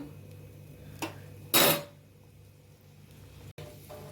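A metal lid is set onto a pan of fish and pointed gourd curry: first a light clink, then a loud, bright clatter that rings briefly and fades, followed by a quiet kitchen background.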